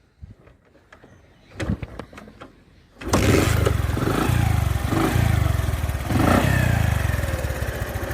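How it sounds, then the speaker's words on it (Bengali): A Bajaj Platina 100cc motorcycle with kick start only gets a few clattering kicks, then its small single-cylinder engine catches and settles into a loud, steady idle nearby with a brief rev. "ভিউয়ার্স আপনাদের এখন আমি স্টার্ট দিয়ে দেখাবো।"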